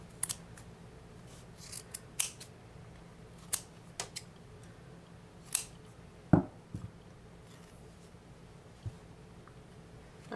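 Scissors snipping yarn strands for a crochet tassel, with a series of sharp, close, quiet snips spaced irregularly over a low steady background hum.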